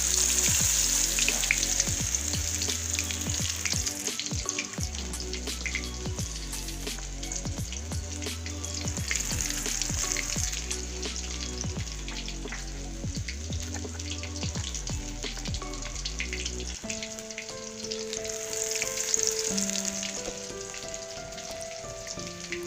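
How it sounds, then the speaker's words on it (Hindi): Chicken coated in gram flour fries in hot oil with ghee, giving a steady high sizzle. Loud background music with repeating notes sits over it for most of the stretch, then changes near the end. "अब मैं चिकन को बेसन लगा के घी भी शामिल कर रही हूँ।"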